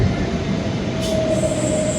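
A Guntur–Repalle MEMU passenger train running steadily, with a continuous rumble of wheels on rail and a faint thin squeal rising midway, loud and close, with no voices.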